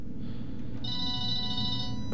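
A telephone ringing in the Vampire the Masquerade Bloodlines video game, an electronic ringtone tone over a low rumbling game ambience, steady and moderately loud.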